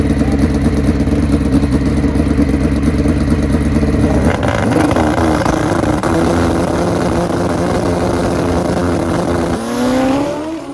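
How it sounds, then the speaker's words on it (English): A land speed vehicle launches at full throttle in a tire-testing run above 200 mph, its loud engine roar building and climbing in pitch, holding steady, then rising again near the end, with no talk over it. "He'll send it full throttle."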